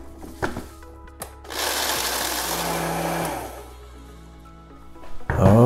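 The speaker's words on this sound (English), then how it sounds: "I'm going to throw it on the blender and" A blender grinds Rice Chex cereal, starting after a few knocks and running as a loud, steady whirring buzz for a few seconds before winding down, with a voice starting up at the end.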